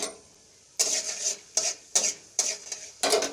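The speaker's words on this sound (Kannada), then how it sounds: "ಅದಕ್ಕೆ ಈಗ ಫಸ್ಟ್ ಒಗ್ಗರಣೆ ಹಾಕ್ತಾಯಿದ್ದೀನಿ. ನೋಡಿ, ಕಡಲೆಬೇಳೆ ಹಾಕ್ತಾಯಿದ್ದೀನಿ." Chana dal tempering in refined oil in a pan sizzles in five or six sharp bursts after a near-silent start, each surge close and crackling as the lentils are stirred and scraped.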